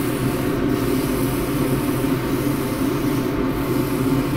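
A box-elder bowl spins on a lathe while 240-grit abrasive is held against it, giving a steady, close, uniform rushing hiss with a low rumble underneath and no breaks.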